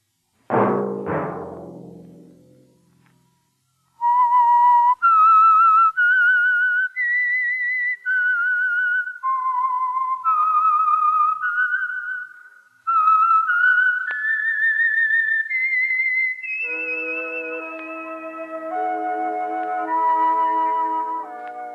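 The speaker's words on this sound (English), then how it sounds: "Let that whistle be your signal for the Signal Oil program, The Whistler, each Sunday night at this same time." A whistled theme tune, the signal for The Whistler radio mystery program, opens with a brief sharp burst and then carries a clear, steady melody of sustained notes, ending with added tones under the tune. No voice is heard.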